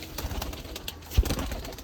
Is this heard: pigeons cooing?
yes